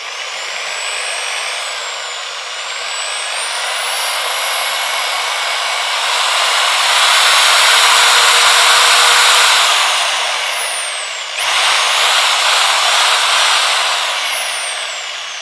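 A corded 500-watt Bosch GSB 10 RE electric drill whines loudly and close, its pitch rising and falling as the trigger changes speed, then dipping briefly before spinning back up, with no voices.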